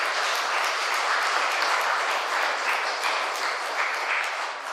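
An audience at a book event in Uphall claps steadily and densely for a few seconds. The applause stays loud throughout and only starts to thin at the very end.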